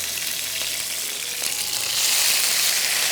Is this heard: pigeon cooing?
no